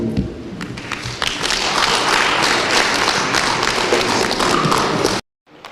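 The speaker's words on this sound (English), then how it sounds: "I think it deserves another round of applause" Applause for a speaker addressing delegates at a council meeting: dense, loud clapping from a large audience, steady for about five seconds and then cutting off abruptly into near silence.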